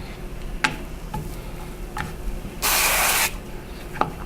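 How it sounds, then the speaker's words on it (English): Cooking spray hisses onto a pan in one steady burst lasting under a second, close and fairly loud, among scattered light clicks and kitchen taps. "I'll just go ahead and spray the other side while I'm waiting."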